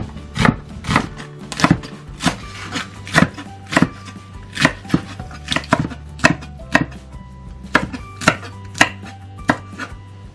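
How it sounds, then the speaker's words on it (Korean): A knife chops onion, green onion and chili peppers on a cutting board, making rapid, repeated sharp cuts in an irregular rhythm, loud and close with no voices. "그리고 양파는 잘 녹아들도록 가늘게 채 썰어주시고, 대파와 청양고추는 적당한 크기로 썰어주세요."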